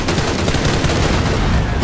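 Rapid gunfire in a fast-paced shooter video game, a dense burst of loud shots rattling continuously for under two seconds with no talk.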